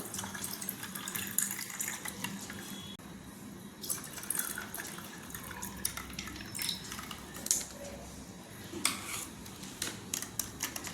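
Cold water runs and splashes steadily into a container for raw mango sherbet, with small clinks and drips over a continuous liquid wash.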